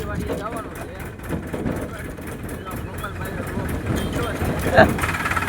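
A tractor engine's steady low rumble runs throughout, close by, with people talking over it and a brief louder bump near the end.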